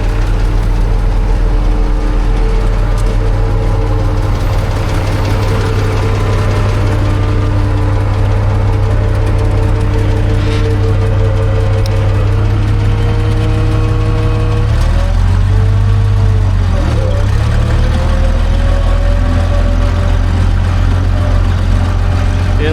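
A G950 tractor's engine runs steadily and loud up close while being driven, a deep low drone holding throughout with a brief pitch dip and wobble around the middle.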